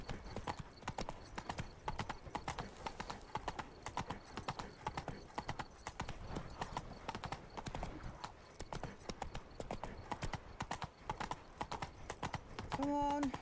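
Roach the horse's hooves clip-clop steadily on town ground in The Witcher 3, a continuous rhythmic trot with game music and ambience underneath and some speech at times.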